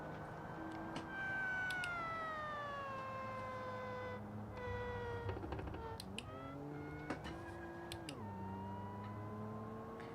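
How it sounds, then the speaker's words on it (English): Supercharger whine from a car in the Automation car-building game, a wavering high-pitched tone that rises and falls like a meowing cat, with several sweeping glides over a steady engine drone. "You can kind of hear the supercharger on power, but when it makes a real cat noise."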